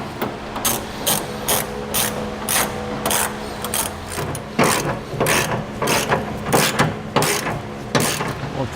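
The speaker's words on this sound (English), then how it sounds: "we're going to hand tighten these 2 bolts on both sides of the vehicle" A hand ratchet tightens bolts on a bed rail under a 2015 Ford F-250 Super Duty during a B and W 5th wheel base rail install, making loud, close, rapid clicking strokes in repeated bursts.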